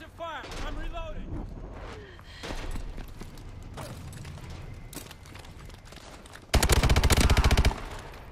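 Video game gunfire: scattered shots through the first seconds, then a dense rapid automatic burst lasting about a second, loud and close, with in-game voices and noise around it.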